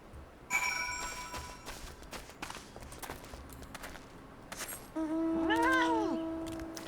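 A cat in Final Fantasy XIV gives a drawn-out meow late on, heard near and fairly loud after scattered footsteps and game clicks, with no talk over it.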